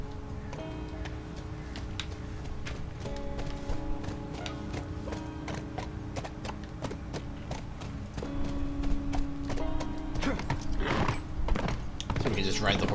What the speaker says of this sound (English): So we can just ride the horse around for a little bit